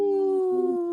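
A dog named Sylvie gives a sustained tonal howl, close and clear, wavering slightly in pitch for under a second.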